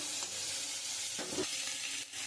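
Small fish fry in hot oil in a wok, giving a steady, loud sizzle with brief bursts of stirring and spattering.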